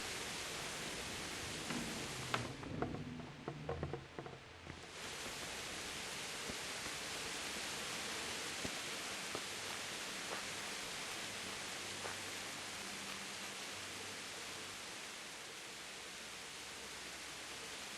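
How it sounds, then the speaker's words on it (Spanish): Steady rain hisses down in Kingdom Come: Deliverance, a continuous broadband wash with brief soft rustles and faint clicks, briefly dipping before resuming at an even level. "Aquí siempre llueve."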